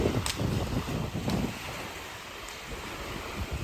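Strong wind at a seaside resort in Lampung, a steady rushing roar with gusty buffeting against the microphone and a faint wash of surf behind it, no voices.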